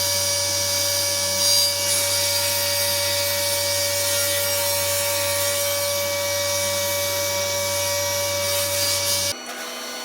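A saw with a thin kerf blade cutting wooden boards for a cutting board, a loud, continuous high-pitched whine with steady motor hum, close and sustained, cutting off abruptly near the end.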